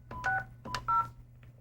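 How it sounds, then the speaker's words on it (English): A touch-tone telephone keypad beeps through a short dialing sequence, three or four crisp tones with brief gaps, close and clear over a faint background hum. "they simply go to a touch-tone phone like this and record a voicemail message"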